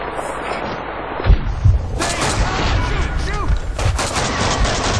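Gunfire in the Max Payne 2 video game, a few close booming shots among muffled game noise, with someone talking over the action.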